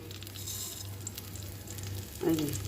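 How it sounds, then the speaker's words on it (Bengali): Black cumin seeds hit hot oil in a pan while cooking a spicy boal fish curry, giving a steady soft sizzle that swells into a louder, crackling fry near the end, with no talking. "এইবার কালো জিরা দেবো আমি"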